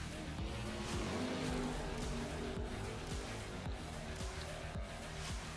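Bracket drag racing cars roar from a distance at a drag strip, a steady loud engine drone with rumbling pulses and faint crowd noise, and no clear talking.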